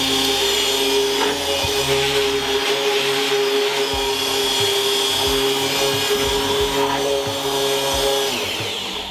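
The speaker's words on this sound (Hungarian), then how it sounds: "Most ezt az egészet megfogjuk, össze fogjuk turmixolni egy gigantikus turmixgéppel." A giant blender runs continuously with a loud, high-pitched whirring roar, its motor note shifting slightly as it churns, with no voices.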